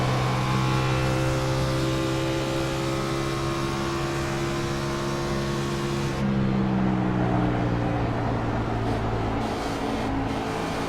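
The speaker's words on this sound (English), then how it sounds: "I'm still listening to that engine of the 32 of Hall" The No. 32 race car's engine roars loud and continuous at Darlington during a 100-lap Dash for Cash, a steady droning note that shifts in pitch partway through as the car's sound changes.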